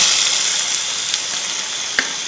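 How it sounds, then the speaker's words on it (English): Marinated meat sizzles in hot Goan vindaloo masala in a pan, a bright steady hiss with a couple of small pops and spits, close and alone with no talking. "now I am adding this marinated meat"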